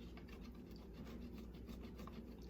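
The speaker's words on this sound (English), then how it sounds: "I froze this butter so it would grate up in the flour real good" Frozen butter is grated into flour with a steady, close, rasping scrape that repeats in quick, even strokes over a low background hum.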